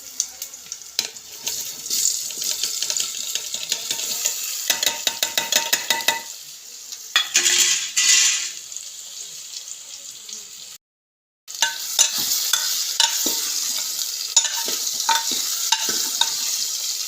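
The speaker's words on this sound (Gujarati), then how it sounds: "હિંગથી આપણે વઘાર કરી નાખીએ" Hot oil crackles and sizzles in a pan as mustard seeds, curry leaves and asafoetida are tempered for a potato curry, with stirring clatter throughout, a brief silent gap near the end, then steady frying resumes.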